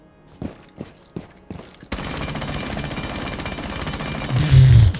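P90 submachine gun firing in Rainbow Six Siege: a few sharp isolated shots, then a long, loud, rapid automatic burst with a steady rattling rhythm lasting about three seconds, and a brief voice near the end.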